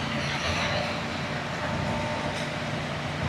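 Rumbling road traffic on a snowy road, a truck passing close by a motorcycle, heard as a steady broadband roar with a low engine drone held at an even level throughout.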